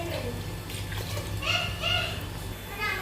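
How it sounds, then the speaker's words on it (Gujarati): Milk is poured into a pot of cooked rice for kheer, giving a soft, faint trickling and splashing that is partly masked by nearby voices talking. "તો હવે આપણે એમાં દૂધ નાખી દઈએ."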